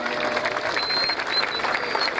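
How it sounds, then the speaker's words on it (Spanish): Applause from a rodeo crowd at a bareback jineteada horse-riding event in La Paz, a steady wash of clapping kept up for the whole moment, with faint voices and crowd noise mixed in. "Así fuerte es. El aplauso."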